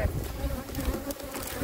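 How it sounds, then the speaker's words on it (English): Honey bees buzz close around an open beehive during a Texas raw honey harvest, a dense steady drone with no speech. "I got a few bees around me,"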